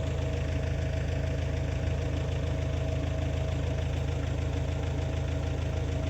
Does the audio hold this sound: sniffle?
no